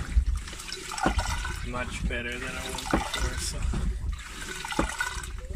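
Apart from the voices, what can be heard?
repaired boat toilet flushing, water refilling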